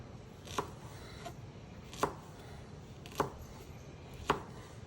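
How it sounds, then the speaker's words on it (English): A knife chopping fresh ginger on a cutting board, four distinct, evenly spaced cuts at a slow, steady pace, close and fairly quiet with a soft background hum. "So now we're gonna cut up our ginger."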